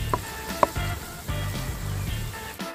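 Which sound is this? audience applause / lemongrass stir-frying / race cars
lemongrass stir-frying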